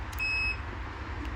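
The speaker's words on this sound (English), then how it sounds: "You should be hearing the beeping, as I just did right now with my multimeters" A multimeter continuity beep while testing a Whirlpool dryer thermal fuse: a single steady electronic tone, high-pitched and clean, lasting about a third of a second before cutting off, with a faint low hum underneath.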